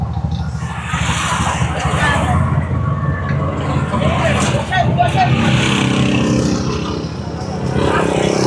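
Many motorized tricycles in busy traffic on a hot day, with engine drone, buzzing motors and a passing horn or siren-like tone, while people talk nearby.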